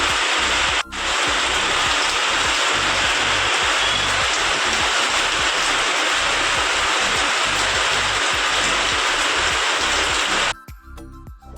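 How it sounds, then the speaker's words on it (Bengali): Heavy rain pours in a dense, unbroken roar that fills almost the whole stretch, loud and close, before cutting off abruptly near the end; no one speaks. "বৃষ্টির আওয়াজটা তোমরা শুনলে তো"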